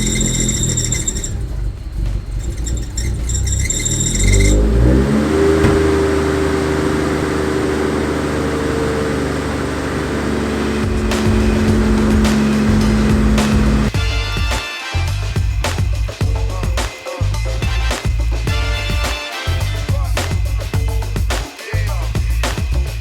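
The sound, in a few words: Nissan Skyline R33 GTST engine starting and revving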